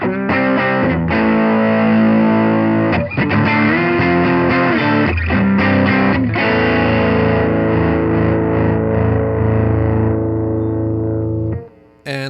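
An electric guitar runs through an EQ2 programmable equalizer that boosts the output and the 2 and 4K bands, giving a loud, bright, distorted tone as sustained chords ring out, then cut off near the end.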